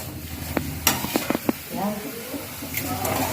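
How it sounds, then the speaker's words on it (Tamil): Tomatoes with a pinch of rock salt sauté in a pan, a soft sizzle running steadily beneath a few sharp stirring clicks and scrapes, close by, with people talking over it. "தக்காளி வதங்கிருச்சுமா?"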